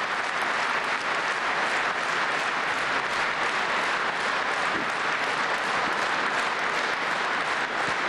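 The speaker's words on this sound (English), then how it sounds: "President Putin receiving strong applause there from the two houses at the Russian Parliament" Sustained, dense applause from the audience of both houses of the Russian Parliament during Putin's address on Crimea joining Russia, even and unbroken throughout, with no speech over it.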